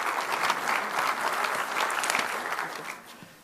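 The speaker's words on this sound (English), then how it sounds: "Can we have a big round of applause" An audience applauds to welcome a keynote speaker on healthy lifestyle, a steady, full round of clapping from a sizeable crowd that stays even and then begins to taper at the end.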